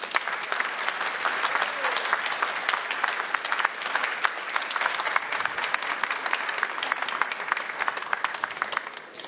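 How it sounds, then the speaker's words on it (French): Audience applause fills the hall at the final of a ceremony masters' eloquence contest at a funeral trade show in Paris, a steady, dense wash of clapping that holds loud and even from start to end with no talk over it. "s'il vous plaît, des applaudissements."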